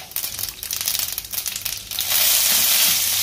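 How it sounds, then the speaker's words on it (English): Cumin seeds fry in hot oil for an Uggani puffed-rice breakfast, giving a close crackling sizzle with short popping bursts that swell into a dense, steady hiss. "Now jeera. Let them fry"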